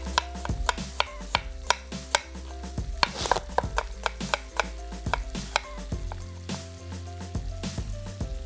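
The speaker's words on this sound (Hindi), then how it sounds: "यहाँ ले लेंगे 1 अदद दरमियानी प्याज। इसको बारीक स्लाइस करके" A knife slices a medium onion finely on a board, quick regular chops tapping in a steady rhythm at close range, with a faint hum behind.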